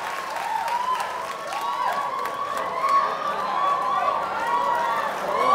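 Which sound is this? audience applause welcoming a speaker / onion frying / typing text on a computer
audience applause welcoming a speaker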